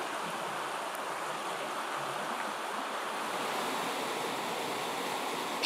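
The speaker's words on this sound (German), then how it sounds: "Sprudelndes Wasser ergießt sich aus dem sogenannten Gerastollen." Water gushes steadily out of the Gerastollen tunnel near the Triefstein rock on a cycling route toward Oberhof, a dense, continuous rushing roar heard up close and alone, with no pauses or talk.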